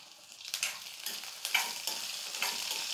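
Onion and peanuts fry in hot oil for a tamil-style chutney, with a soft steady sizzle broken by repeated scraping stirs of a spoon against the pan, close and fairly quiet.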